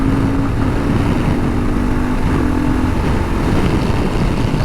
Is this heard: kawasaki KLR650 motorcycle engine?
yes